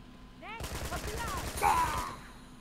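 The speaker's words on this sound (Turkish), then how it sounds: "Kilidi vur." A rapid burst of gunfire rings out in Uncharted 2 as a lock is shot, a dense volley of closely spaced shots lasting about a second and a half, with a brief voice just before and a sharp metallic ring near the end.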